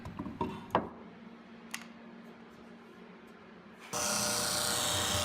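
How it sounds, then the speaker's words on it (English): A disc sander is used on a wenge and bird's-eye maple keepsake box. A few light knocks and taps come first, then a steady, loud whirring grind starts partway through and runs to the end. "we used a disc sander to try to sand as carefully as possible right up to the exact point of the line"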